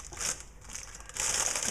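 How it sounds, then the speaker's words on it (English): Floral oasis foam is squeezed down into a plastic-lined box, giving a soft, close crushing and crinkling of film and foam in two brief bursts. "squeeze it down into the box"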